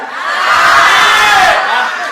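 A large crowd shouts and cheers loudly together, a dense roar of many voices swelling and holding for a couple of seconds.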